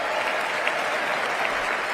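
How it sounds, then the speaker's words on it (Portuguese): Enthusiastic applause from a large audience, a dense, even wash of clapping that continues steadily throughout at full strength. "Estão vendo ali o aplauso, né? Entusiasmado a esse."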